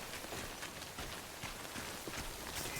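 Steady light rain falls in the open-world video game Death Stranding, a soft continuous hiss of drops with faint patter and no voices, even and unbroken throughout.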